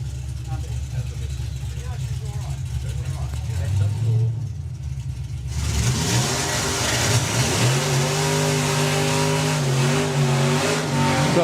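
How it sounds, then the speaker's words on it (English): A supercharged Ford drag car with a Whipple supercharger and a 363 engine, running Supercharged Outlaws, does a burnout at a drag strip, roaring loudly and rising in pitch after a quieter start, while a commentator talks over it. "superb burnout there from Andy Park"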